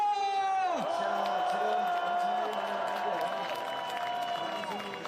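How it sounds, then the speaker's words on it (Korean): Crowd at a rally outside the Constitutional Court in Seoul, calling for the president's removal, cheers and applauds loudly and continuously, with whooping, whistling and sustained shouted voices over a dense clapping wash. "참여해주신 분들의 힘찬 박수 함성으로 파면 촉구대회를 시작하겠습니다"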